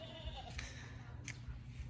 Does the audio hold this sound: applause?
no